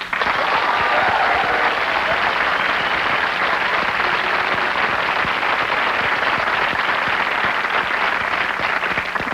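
Comedy club audience breaking into loud sustained applause and crowd noise, dense and continuous across the whole stretch with no talk standing out.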